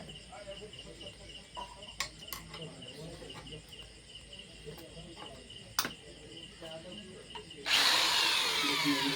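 A power tool tightens one side of a piece of work: short whirring bursts over a steady chorus of crickets, then a loud, sustained spin near the end, with faint talk in the background.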